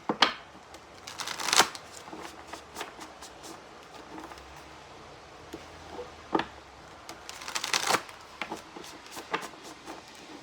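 Tarot cards shuffled by hand close up, quiet riffling bursts and soft taps recurring in a few clusters across a hushed room.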